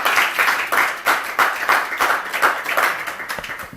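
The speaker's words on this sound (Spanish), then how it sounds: "Aplauso a Jesús," A church congregation claps in a quick, uneven rhythm, a close, lively burst of hand claps that keeps going steadily for a few seconds without voices on top.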